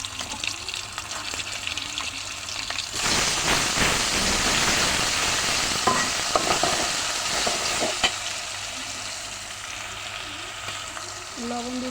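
Sliced onions for biryani, already fried crisp, sizzle loudly in oil once ginger-garlic paste is added, with steady crackling frying and stirring scrapes that build after a quieter start and continue throughout, with no talking.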